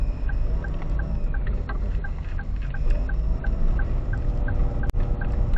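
A Toyota Wigo G 2025 car engine drones steadily and loudly while straining uphill, a low laboring rumble with a faint rhythmic ticking over it, no voices.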